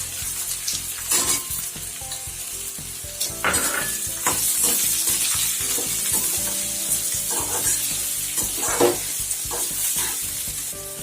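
Onions sizzle and crackle steadily in a hot pan as they fry until brown, with occasional scraping and stirring sounds from a utensil against the metal.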